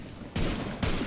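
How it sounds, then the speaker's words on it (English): Fireworks in the video game Borderlands 3 burst in two loud, broadband crackling blasts roughly half a second apart, each sustaining a rough noisy rumble with no talking. "Those Devil Riders are celebrating the sheriff's death with damn fireworks"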